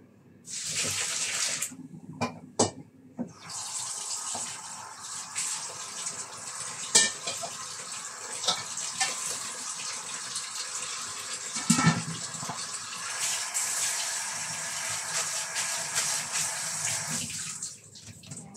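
Boiled noodles are washed under a running tap, giving a steady splashing water stream with brief clatters, starting and stopping near the ends.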